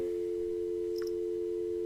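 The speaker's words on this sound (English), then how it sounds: "The phone dims as the line drops, leaving the stranger alone in the dark." In the Helltaker fan game, a phone line drops and leaves a steady, unbroken busy tone that sounds alone and evenly loud for its whole length.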